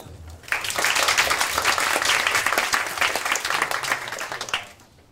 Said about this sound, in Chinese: 我们用掌声来欢迎翟博士